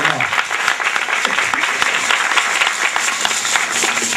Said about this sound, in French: Nous vous demandons de bien vouloir applaudir notre gouvernement.